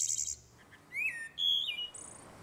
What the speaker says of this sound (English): you hear the calls of local birds